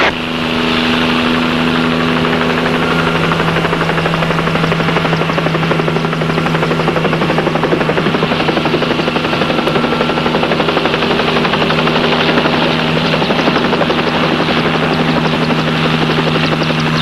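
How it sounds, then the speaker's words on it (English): Highway patrol helicopter close overhead, a loud, steady rotor chop and turbine drone with a strong low hum holding unchanged the whole time, no voices. "Come on back, Copter"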